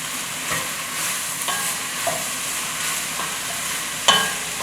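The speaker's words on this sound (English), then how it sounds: "let the vegetables cook for a little bit longer" Vegetables for a vegan paella fry in a pan, giving a constant close sizzle with a few stirring scrapes and a sharp metallic clink near the end, no talking.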